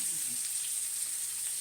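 Eggs frying in a pan that is a little too small, a steady close sizzle with an even hiss and no break, and no talk over it.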